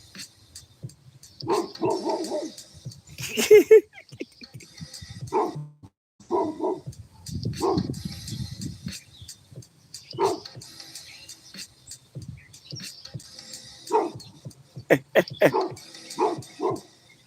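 A dog barks in short, sharp bursts and yips spread across the stretch, with whimpering between, fairly close and moderately loud, while people talk around it.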